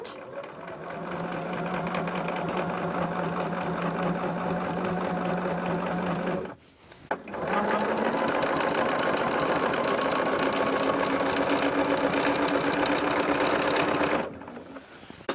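A sewing machine stitching binding onto the back of a baby quilt runs in two long, steady bursts with a brief pause between them, close and loud, with faint talk alongside.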